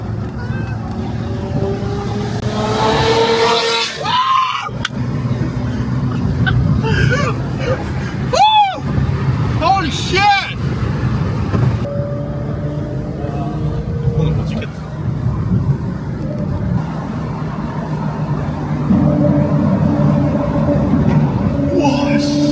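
Exhaust of a car following close behind, a steady loud engine drone running through the whole stretch, with a few whooshing pass-by sweeps and people talking over it.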